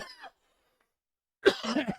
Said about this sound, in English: Sorry, this cough is a bit nuts.